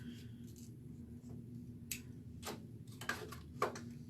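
Scissors snip the corners off small plastic skincare sample packets, making four quiet, sharp clicks over a faint room hum.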